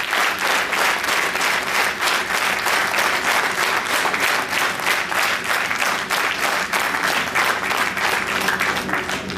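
Dense, loud applause from a large crowd at a gathering of intellectuals, steady and sustained throughout with no voices breaking through.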